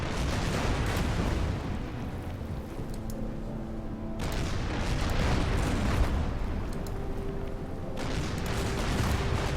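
Naval guns in the Order of Battle wargame, set at Bougainville, boom in a dense, sustained roar of heavy rumbling fire that swells in waves with no talk over it.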